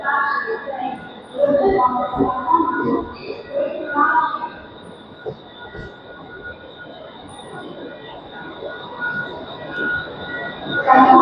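A train rumbles and rolls through VT railway station with a steady mechanical drone and a faint high whine. Station crowd noise and voices sit in the background, louder toward the start and end.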